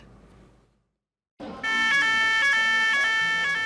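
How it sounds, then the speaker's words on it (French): A fire alarm at a maritime station sounds during an evacuation drill, starting abruptly after a short quiet and holding as a loud, steady electronic warble of repeating tones. "l'alarme incendie de la gare maritime retentit"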